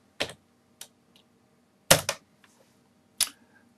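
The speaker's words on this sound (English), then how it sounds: "and type in Google" A few sharp, separate keystrokes on a computer keyboard sound close and clear, spaced unevenly with a pair near the middle and quiet gaps between them.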